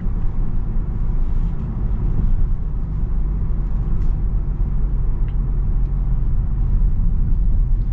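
Cabin rumble of a Kia K5 car under acceleration, a steady loud low engine and road drone that holds evenly throughout with no voices over it.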